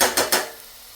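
A metal lid set down on a pot of onion curry, giving a few quick clanks in succession, close and fairly loud, with no talk.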